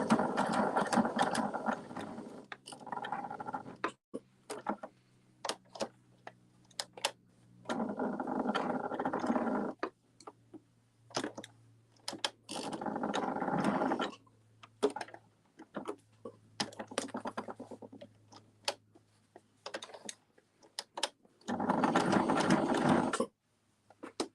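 Sewing machine stitching an eco printed lavender bag in several short bursts of rapid mechanical clatter, separated by pauses with quiet clicks as the presser foot is lifted to turn.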